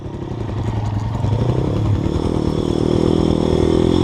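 A 250cc pit bike or dirt motorcycle engine revs up under throttle, loud and close, with the pitch climbing steadily over a few seconds.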